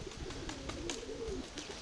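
Soft pigeon cooing, a low rolling murmur in a steady background, with no voices.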